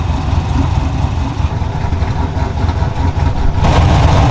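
A truck engine idles steadily while warming up with its cooling fans running, a continuous low rumble that swells slightly louder near the end; the engine is being checked for overheating.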